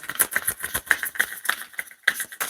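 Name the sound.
chair creaking while shuffling cards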